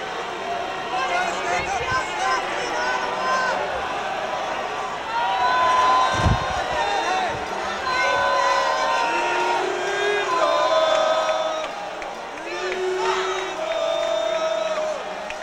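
A packed arena crowd at Game 7 of the OHL Championship Finals between the Belleville Bulls and London Knights cheers and whoops continuously beneath an announcer's steady talk.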